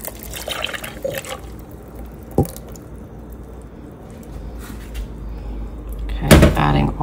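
Half and half cream poured from a carton into a pan for a kimchi Alfredo sauce, a close, liquid splash and trickle with a louder burst near the end.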